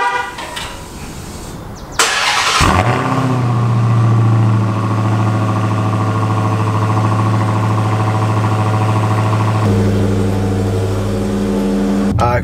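A car engine comes to life by remote start: a sharp starter burst and catch, then a steady loud idle with a low hum that holds, briefly shifting near the end.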